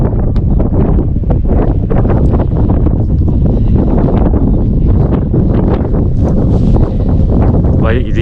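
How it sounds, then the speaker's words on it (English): Strong wind buffets the microphone on the Isle of Skye in Scotland, a loud continuous low roar with gusty rustling throughout, while indistinct voices are partly buried beneath it. "the wind was way too loud to hear anything, which is pretty standard for Scotland"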